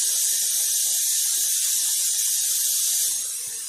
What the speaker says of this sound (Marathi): चला आता आपल्या कुकरच्या शिट्ट्या झालेल्या आहेत आणि कुकर सुद्धा शांत झालेला आहे।